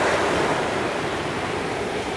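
Sea waves wash in a steady, loud broadband roar at the shore, continuous with no pauses and nobody speaking.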